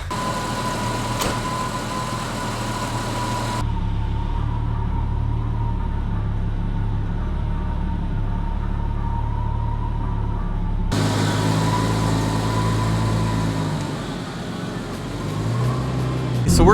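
A Jeep Comanche pickup's engine runs steadily on a test drive, a close continuous drone with cabin and road noise that shifts in tone partway through.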